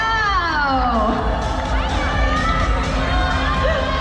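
Fans at a film promotion in Kuala Lumpur shriek and cheer loudly for actors on stage. A continuous close roar of high-pitched screams and whoops rises and falls throughout.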